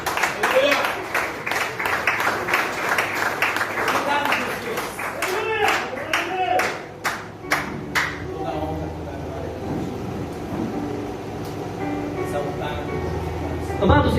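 Congregation in a church clapping together, loud and sustained at first, thinning out near the end as a voice begins speaking over the fading applause.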